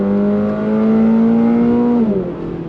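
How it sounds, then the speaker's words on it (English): Toyota GR86 sports car engine pulling hard on throttle in track mode, a loud steady rising drone heard from inside the cabin, with a brief dip near the end as it shifts gear. "I do have it in track mode, and we're gonna go on throttle."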